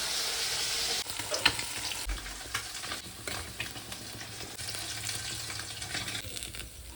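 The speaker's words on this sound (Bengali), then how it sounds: "এবারে ফেঁসা মাছগুলো হালকা করে ভেজে নেব" Phasa fish lightly frying in a pan, a faint steady sizzle with scattered scrapes and clicks throughout.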